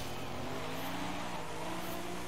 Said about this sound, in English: Oh, wheel spin, man,